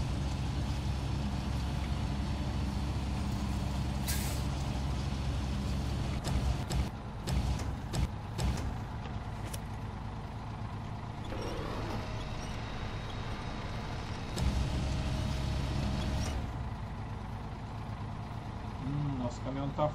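Truck engine in SnowRunner rumbles steadily throughout while the rig is being pulled out of a mudhole, with a few sharp clanks midway and a person talking over it.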